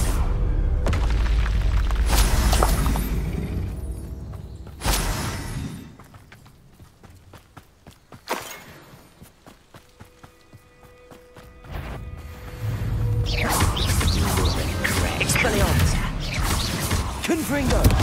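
Booming spell blasts and crashes from combat in the wizarding video game Hogwarts Legacy, several loud impacts separated by quieter stretches, with a voice casting spells over the action.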